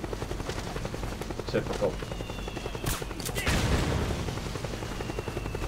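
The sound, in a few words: helicopter firing in video game Metal Gear Solid 4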